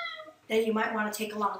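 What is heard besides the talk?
cat meowing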